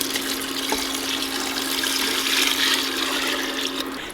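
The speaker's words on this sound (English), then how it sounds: "and then add in some water" Water pours steadily into a pan of sautéed beef chuck, a continuous splashing rush close up that holds for a few seconds before tapering off, with a faint steady hum underneath.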